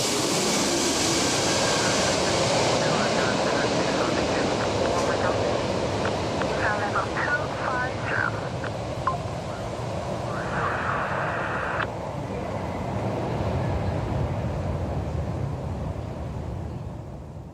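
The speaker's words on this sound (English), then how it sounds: "China Airlines Airbus A330-300 flies low over spectators before touchdown." China Airlines Airbus A330-300 passing low overhead before touchdown at an airfield, a loud sustained broadband jet roar that holds steady throughout, with crowd chatter from spectators mixed underneath.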